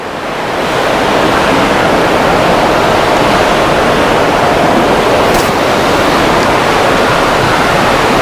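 Ocean waves heard from the open deck of a cruise ship make a loud, continuous broadband wash of surf that swells in at the start and holds steady throughout, with no speech.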